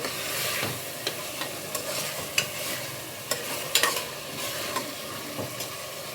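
Chopped tomatoes fry in a hot pan for a tomato bath breakfast, a steady sizzle broken by repeated scrapes and taps as a spoon stirs them at an uneven pace, close and moderately loud with no talking.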